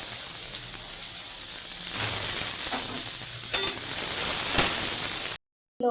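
Onions sizzling steadily in hot oil with cumin seeds, a bay leaf and whole garam masala, a loud continuous frying hiss with a few stirring scrapes, close up.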